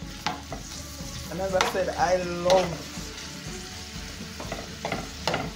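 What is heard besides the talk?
salt mackerel seasoning frying in a pot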